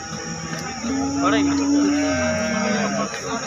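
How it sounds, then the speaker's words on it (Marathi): A cow at the Sangola cattle market lets out one long, loud, drawn-out moo close by, with market voices in the background. "आपण गाय बघू शकता"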